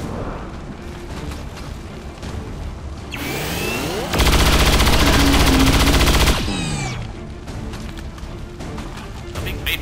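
Gunfire and explosions in the turn-based video game XCOM 2 ring out loud and close, with a long burst of rapid shots building into a sustained roar in the middle before fading back to quieter game sounds.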